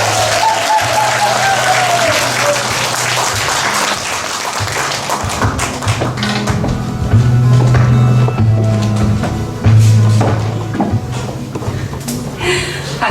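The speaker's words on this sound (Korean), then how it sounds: "여러분 큰 박수 부탁드립니다" An audience at a book-and-music concert celebrating a book launch applauds a speaker as she comes up. Sustained group clapping fills the room, with thumps and a low musical hum beneath it.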